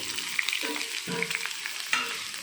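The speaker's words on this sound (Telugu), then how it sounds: "ఇవి కూడా ఫ్రై చేసుకోవాలి" Capsicum pieces frying in oil in a pan, a close, continuous sizzle with a few stirring scrapes and light clinks, no voices.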